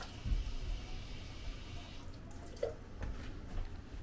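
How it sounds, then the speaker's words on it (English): Water from a kitchen sink tap runs in a steady, quiet stream with a few faint splashes and clinks nearby, no talking over it. "I come over to the sink, put a little bit of water in it."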